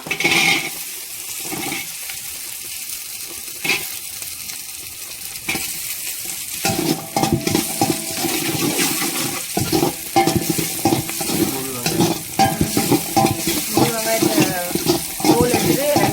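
Chopped small onions sizzle in hot oil for a fish curry while a spoon stirs and scrapes the pan, the frying building louder and busier, with a voice talking now and then.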